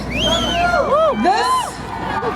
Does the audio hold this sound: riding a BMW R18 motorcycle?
no